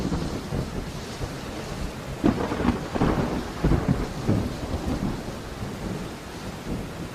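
Thunderstorm with steady rain hiss and low thunder rumbling in the distance, swelling in a couple of rolling waves before fading back into the rain.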